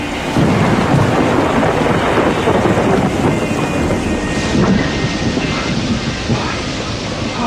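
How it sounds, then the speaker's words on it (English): A violent thunderstorm roars with a loud, continuous rumble of thunder mixed with heavy wind and rain, the storm building to a sustained din that eases only slightly toward the end. "It was for me the biggest and the strongest thunderstorm that I ever saw."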